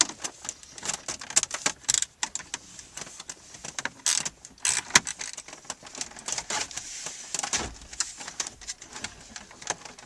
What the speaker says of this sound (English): I'm going to start by removing these two screws to remove the trim around the radio.